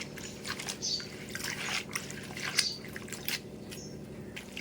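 Quiet sloshing and squishing of water as chirraaku leaves are swished and squeezed by hand, with small drips between.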